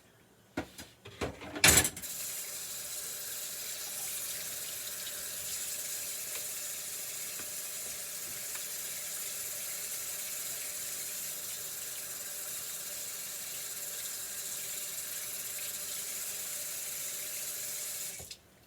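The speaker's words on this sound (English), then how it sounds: "I'm going to wash my utensils and we'll continue" Steady running water pours from a kitchen sink tap as cooking utensils are washed, after a few brief clatters at the start; a continuous, close hiss with no talking.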